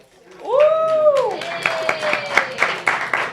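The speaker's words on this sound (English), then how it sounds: "Clap it up, clap it up." Scattered audience clapping at a live show, a loud sweeping voice-like tone at the start, then uneven sharp claps under ongoing talk.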